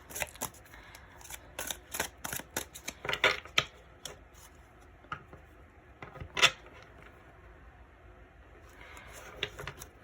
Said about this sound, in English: Like shuffling one more time and then we will get started.